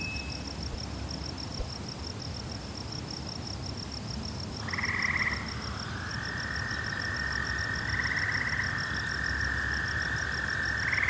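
Poison dart frogs call in the Amazon rainforest, their steady trilling chirps rising over a constant dense drone of insects and forest ambience, with no voices.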